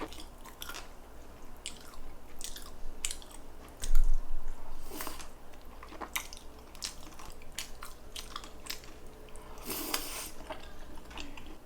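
Close-up chewing of sausage, a steady run of soft wet bites and mouth sounds with one louder crunch-like bump, heard alone without talk.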